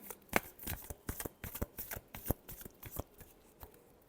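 Tarot cards being shuffled in a rapid run of crisp riffles and flutters, about a dozen close, papery bursts over four seconds with no voice.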